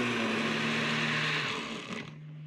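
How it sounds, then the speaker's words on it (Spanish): A blender whirs steadily at close range blending a wine marinade for roast pork, then winds down and stops near the end. "Y vamos a licuar."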